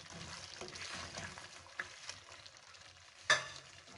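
Chopped vegetables drop into frying chicken jalfrezi, a soft, quiet sizzle with light stirring and a couple of sharp clinks of a utensil against the pan.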